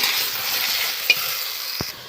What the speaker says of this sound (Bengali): এবার আমি কিছুক্ষণ এই কচুগুলো একটু নেড়ে চেড়ে নিয়ে ভালো করে ভেজে নেব